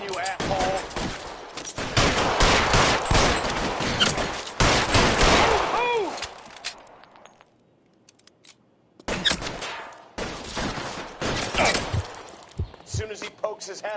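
Gunfire in the 1940s Los Angeles detective game LA Noire rings out in rapid, loud volleys. It stops for a quiet pause of a couple of seconds, then erupts again in repeated sharp bursts.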